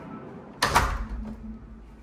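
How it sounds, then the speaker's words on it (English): A front door of a condo unit in Ewa Beach swings shut with a single solid thud and brief rattle, close by, followed by quieter room ambience. "Now with the door closed,"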